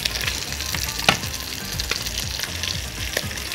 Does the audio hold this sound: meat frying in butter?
yes